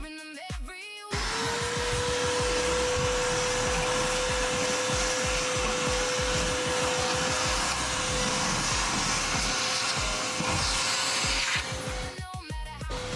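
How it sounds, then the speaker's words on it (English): A vacuum cleaner switches on and runs at a steady, loud drone with a fixed tone, then cuts off near the end. Music plays before and after it. "Turn on the vacuum."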